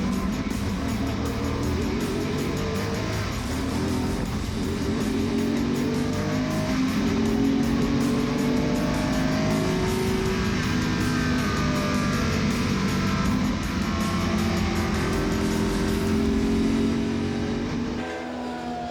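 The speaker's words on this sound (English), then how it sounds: "The Group C cars are without a doubt the fans' favorites, due to their shape, their power and their sounds" Group C prototype race cars, including Jaguar XJRs, Porsche 962s and a Peugeot 905 V10, roar around the Spa-Francorchamps circuit at the Spa-Classic, engines rising and falling loudly as several cars pass close by over a sustained stretch.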